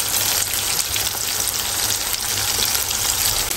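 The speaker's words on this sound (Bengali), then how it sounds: "এখন অন্য পাশে উল্টে দিলাম একটু ভেজে নিচ্ছি" Pieces of rohu fish, just flipped to the other side, fry in hot oil with a loud, close, continuous crackling sizzle that stays even throughout.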